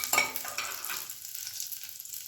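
Finely chopped garlic dropped into melted butter in a pan, giving a brief burst of stirring and sizzling at the start that settles into a steady, quieter frying hiss.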